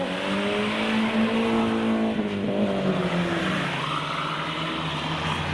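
A Mercedes accelerates and drifts on a wet road at a Japanese car meet, its engine droning and rising in pitch under a steady wash of spray and tyre noise, fairly close and continuous.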